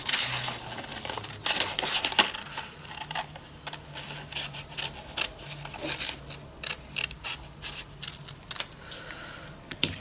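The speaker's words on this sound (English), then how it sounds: "I want that particular shape, so I'm just going to cut around it" Scissors snip around a paper shape from a mixed media art paper pack, a close series of crisp, irregular cuts with brief pauses and soft paper rustling between them.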